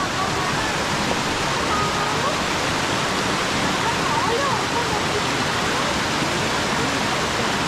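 Hidlumane Falls at Kodachadri pours down in a loud, continuous roar of rushing water heard up close, with voices faint beneath it.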